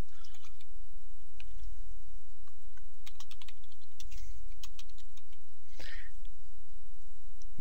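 Keys clatter on a computer keyboard while a document is typed in a word processor, with irregular clusters of close, crisp taps and short pauses between bursts.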